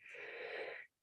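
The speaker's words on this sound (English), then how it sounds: "I'm sorry about yawning" A single yawn lasting just under a second, a breathy, wheezy exhale that holds steady and then cuts off abruptly, faint and close to the microphone, with no speech.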